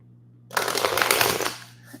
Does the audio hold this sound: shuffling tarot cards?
yes